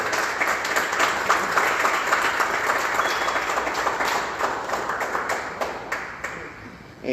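Audience at a book presentation gives a long, steady round of applause for a speaker being introduced, dense clapping that holds for about seven seconds before tapering.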